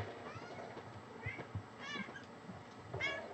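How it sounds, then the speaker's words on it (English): An old cat gives a few short meows, fairly faint, over quiet room noise and soft background voices. "Cairo, she's an old kitty."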